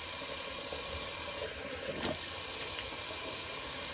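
Cold tap water runs steadily into a sink for a rinse during a wet shave with a Merkur 39c safety razor, a continuous close splashing flow with a brief shift in the stream midway.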